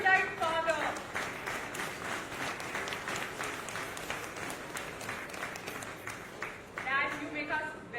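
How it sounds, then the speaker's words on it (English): Audience applause at a book launch event, a steady wash of clapping lasting several seconds, with voices speaking over it at the start and end. "A round of applause for my erudite father."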